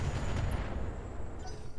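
Mech weapons fire in a BattleTech-style strategy game, a rumbling burst of gunfire and artillery-like blasts with explosion tails, fairly quiet and alone.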